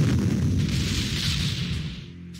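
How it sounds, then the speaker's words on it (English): An artillery strike in the Panzer Corps war game lands as a loud, deep rumbling explosion that booms steadily and fades slightly over a couple of seconds, with no voices. "And I'm gonna hit this artillery piece."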